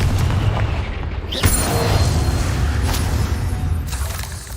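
A fiery Confringo spell blast in Hogwarts Legacy, a loud booming burst with crackling debris and a rumbling tail that fades over a few seconds amid ongoing game noise.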